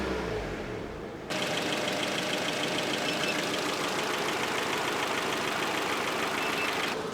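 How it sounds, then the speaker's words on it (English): A Rover 216i idles with a low, steady engine rumble, then the radiator cooling fan abruptly switches on after more than twenty minutes of running, adding a loud, constant whooshing roar that carries on over the idle. "the fan just started"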